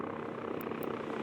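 Helicopters in the city-building game Workers & Resources, a steady rotor and engine drone running evenly throughout over a constant background hum, with a couple of brief high ticks.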